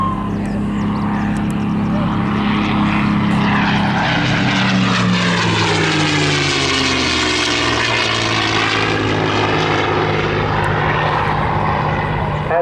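A P-51D Mustang warbird with a Rolls-Royce Merlin engine roars loudly and continuously at an airshow, its propeller drone swelling and its pitch shifting as it passes overhead.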